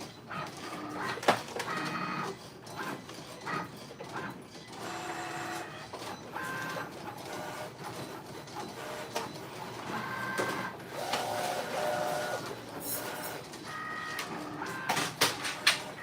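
A Cricut cutting machine slices smart vinyl with whirring, stepping motor sounds and short mechanical bursts, steady and close with no talking.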